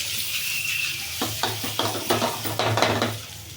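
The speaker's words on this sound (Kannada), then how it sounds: "ಮೊಟ್ಟೆ ಚೆಂದ ಫ್ರೈ ಆಗಲಿ" Cut boiled eggs with chili powder fry in a pan, a soft sizzle running beneath a series of close scraping stirs that grow busier toward the end, with no voices.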